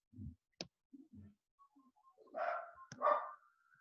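A dog gives a couple of faint, distant barks indoors, mixed with scattered clicks and small thumps against an otherwise quiet background.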